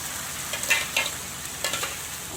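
Chili paste and dried red chili frying in hot oil for a paneer masala gravy, a soft steady sizzle with a few brief stirring scrapes, close and fairly quiet, no talking.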